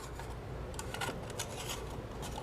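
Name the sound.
clipping off small ends with cutters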